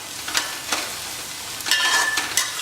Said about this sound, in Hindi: लगभग 10-12 मिनट अच्छा बढ़िया भून लें और गोल्डन ब्राउन कर लें।